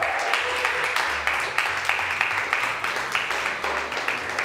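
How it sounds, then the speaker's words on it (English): Applause from an audience at an open mic night for a poet, a steady wash of clapping with some low murmur underneath, fairly loud and sustained. "Y'all give her another round of applause"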